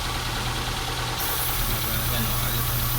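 Car engine idling with its PCV valve unplugged, a steady low rumble with light knocking that holds throughout, close and continuous with a faint voice underneath.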